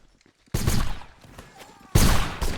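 Video game gunfire from a 95th Rifles match: loud bursts of rifle fire, a sharp volley opening after a half-second lull and a second heavy burst near the end, with a quieter stretch of scattered shots between.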